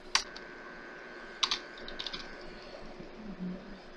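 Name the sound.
typing on a computer keyboard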